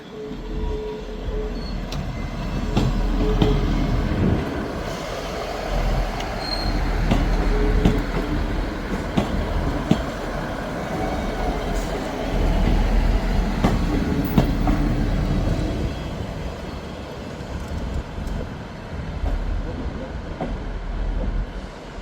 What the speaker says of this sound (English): Arriving in now is a Scotrail service terminating here from Glasgow Queen Street